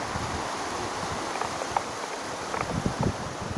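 Water of the Chi River in Roi Et province rushes steadily past, a continuous broadband flow heard from nearby a bridge, with a few faint knocks and no talking.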